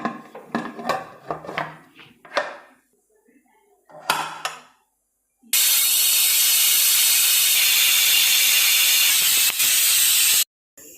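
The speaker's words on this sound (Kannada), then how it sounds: "ಒಂದು 3 ವಿಜಿಲ್ನ ಕೂಗಿಸ್ಕೊಳ್ತೀನಿ." A pressure cooker holding chickpeas with salt and cloves lets out one loud, sustained hissing whistle of steam lasting about five seconds, after a voice and some kitchen clatter.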